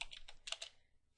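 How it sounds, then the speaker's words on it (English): Quick, light keystrokes on a computer keyboard as a Linux command is typed, a brief close run of soft taps fading out within about a second. "Let's type in ls space /home."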